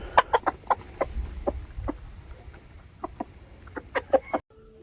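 Backyard hens cluck while being fed handfuls of treats, giving a close series of short, irregular clucks and squawks in bursts, with a quieter stretch in the middle and no talking.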